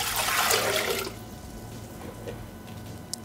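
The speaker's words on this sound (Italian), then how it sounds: "Iniziamo la ricetta mettendo all'interno del boccale l'acqua" Water poured into a Thermomix TM6 mixing bowl at the start of a vegetable recipe, a broad splashing gush for about a second that quickly fades to quiet room noise.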